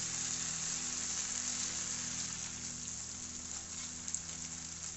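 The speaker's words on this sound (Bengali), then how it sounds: "এবার আমি দিয়ে দেব পানি।" A continuous, even hiss of water being poured into a pot of braised chicken, holding steady for several seconds without any talking.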